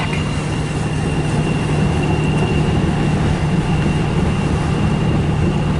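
CN freight train made up of autorack cars passing near Port Huron, a steady, loud rumble and rolling roar that holds evenly from start to finish with a faint high whine above it.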